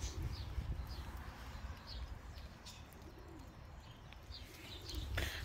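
Racing pigeons coo softly in a loft in Belgium, with faint chirps over a steady low rumble of background noise and no speech.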